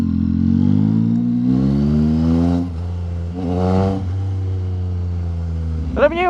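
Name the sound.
Yamaha MT-09 SP three-cylinder motorcycle engine with full exhaust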